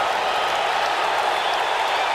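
A dense, steady roar of crowd applause fills a Nashville wrestling arena in the video game WWE 2K19, loud and continuous with no pauses.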